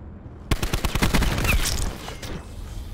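Rapid automatic gunfire from a weapon in Black Ops 4 rattles out in a close, loud burst of evenly spaced shots that stops abruptly, leaving a brief echoing tail.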